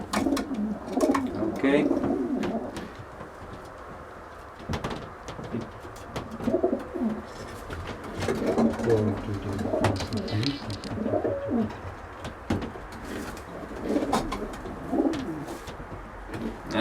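Pet pigeons cooing at bedtime in a home loft, repeated soft low coos across the whole stretch, close by, with a person speaking briefly among them and occasional handling knocks.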